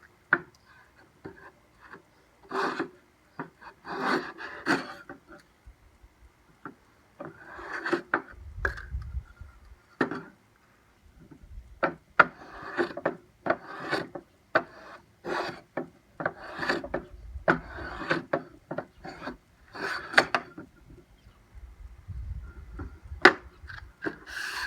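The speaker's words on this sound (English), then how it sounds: "So I'm going to be planing these sides down to make this as flat as possible." Hand plane shaving the wooden sides of a canvas frame, in repeated rasping strokes of uneven rhythm, close and fairly loud, with short pauses between passes and no talking.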